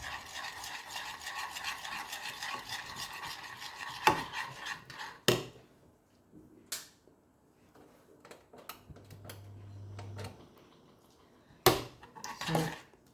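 Stirring a little milk into quiche ingredients in a pot: soft scraping and tapping strokes with several sharp clinks of utensil against the pot, fairly quiet and close, with pauses between bursts.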